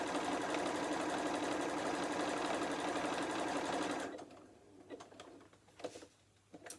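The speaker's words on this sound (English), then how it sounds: "And again, just sewing across" A sewing machine runs steadily, stitching across a fat-quarter fabric book cover, a loud continuous mechanical whir for about four seconds, then it stops and leaves quieter handling sounds and small clicks.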